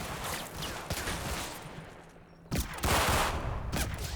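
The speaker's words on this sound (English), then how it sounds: "Sound a whole lot like a MG42 to me. Could be an MG34 too, of course." An MG42 machine gun fires in the Combat Mission: Battle for Normandy war game, with distant rattling bursts and sharper louder volleys near the end over a noisy battlefield backdrop.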